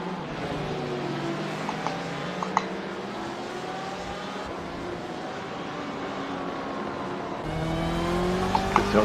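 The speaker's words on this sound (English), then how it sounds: "There's a car approaching." In the iRacing sim at the 24 Hours of Daytona, race car engines whine with rising and falling pitch as a car approaches, a steady simulated engine drone that swells louder near the end, with no speech.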